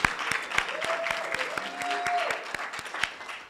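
A round of applause from an audience in a hotel meeting room, steady clapping with distinct sharp claps standing out, while a voice or tone lingers faintly beneath.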